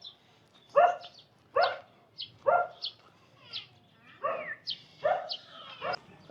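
Caged dogs in a Philippine mall bark in repeated sharp, close yaps at a steady pace, about eight barks with short whines mixed in, heard alone without talk.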